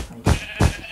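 A sheep in the video game Minecraft gives two short, loud, close bleats in quick succession, alone without speech.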